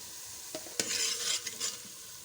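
Ground spices such as turmeric, chili, coriander powder and cumin frying in a pan for egg kofta curry, a soft steady sizzle with a few stirring scrapes, fairly quiet and without speech.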